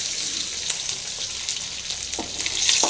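Mustard seeds, garlic and shallots fry in hot oil with a steady hiss from close by, broken by small crackles and pops and a few faint stirring knocks.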